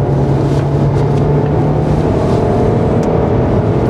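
Audi Q5 2.0 TFSI Quattro engine accelerating, a loud continuous roar with a rising tone near the start, heard from inside the car with no talk.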